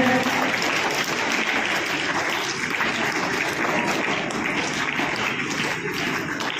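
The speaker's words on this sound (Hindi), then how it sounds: "जोरदार ताली एक बार।" Sustained applause from an audience at a school CBSE results ceremony, dense steady clapping at even loudness throughout with a faint murmur of voices beneath.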